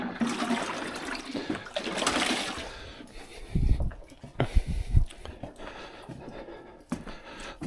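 Water poured onto dry soil in trays of greenhouse seedlings makes an uneven splashing and trickling rush, close by, with a few louder gushes and light breathing or voice sounds in between.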